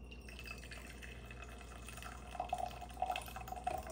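Liquid is poured into a glass French press coffee maker, a faint trickle that grows into louder, bubbling splashes near the end.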